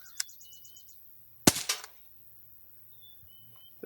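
A single sharp, loud crack from an Umarex Smith & Wesson M&P 40 .177 CO2 air pistol firing through a chronograph, with a brief metallic ring after it and faint bird chirps in the background.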